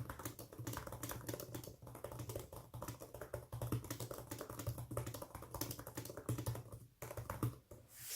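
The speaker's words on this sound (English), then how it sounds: "it makes a clicky noise when I type" Typing on the keyboard of a Dell XPS 15 2-in-1 laptop: a steady, rapid stream of light clicky keystrokes, close and fairly quiet, with no talking.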